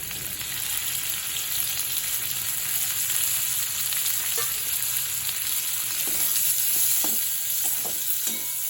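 Chopped onion frying in hot oil, a steady close hiss of sizzling with occasional scrapes and clicks from stirring toward the end.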